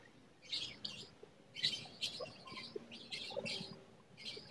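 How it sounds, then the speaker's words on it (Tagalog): Pet lovebirds chirp noisily in a quick run of bright, repeated tweets and calls, fairly close and with no talking in between. "Ang ingay ng mga lovebirds, nagsiselos yata."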